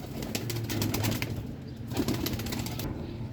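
Pigeons flap their wings in short, rapid bursts of fluttering, some close and some farther off, against a steady background hum.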